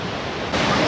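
A waterfall on the Kumbharli Ghat roads a steady broad rushing roar, loud and continuous, swelling slightly partway through.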